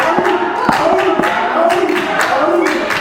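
A wrestling crowd at a UKW Friday Night Showdown event cheers and claps steadily throughout, loud and continuous, with sharp thuds from the ring punctuating the noise.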